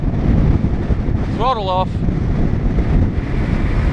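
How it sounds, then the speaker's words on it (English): Strong wind buffets the microphone during an outdoor flight of a Hobbyking Durafly Excalibur RC plane, a loud continuous low roar throughout, with a brief spoken voice partway through. "big gust of wind, big gust of wind."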